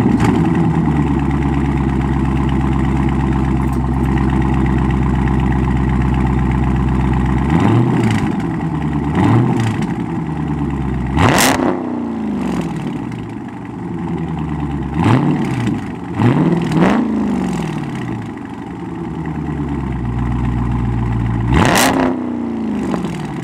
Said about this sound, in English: That's giving it a couple revs right there.